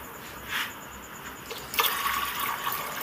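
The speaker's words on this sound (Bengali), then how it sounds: "এবার আমি প্রেসার কুকার জল দিয়ে দিচ্ছি পরিমাণ মতো।" Water poured into a pressure cooker while making vegetable khichdi, a soft splashing pour that grows fuller and brighter midway and runs on steadily to the end, close by.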